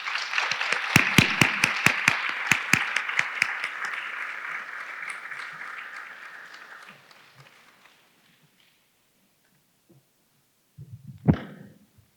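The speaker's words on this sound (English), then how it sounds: "please join me in giving her a round of applause and welcoming her today" Audience applause welcoming a speaker to the podium at an advocacy symposium, with sharp loud claps up front over a dense crowd clatter that tapers off over several seconds, followed by silence and a brief burst of noise near the end.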